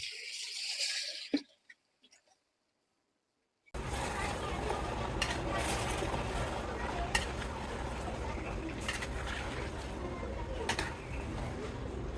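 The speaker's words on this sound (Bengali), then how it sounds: "পেঁয়াজ ভাজা শেষ, এখন দিয়ে দিই হইল মশলা মাখানো মাংসগুলি" Spice-marinated beef hits fried onions for a Bangladeshi beef rezala and sizzles loudly, with spoon scrapes and stirring clatter. A brief muffled voice comes just before it.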